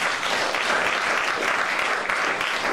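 A church congregation applauds steadily in praise of the Lord Jesus Christ, a dense, even wash of many hands clapping together throughout.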